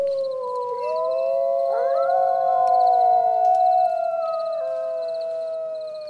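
A wolf pack howls together in a forest, several overlapping drawn-out voices rising and bending against one another, loud and reverberant, holding for several seconds before tapering off.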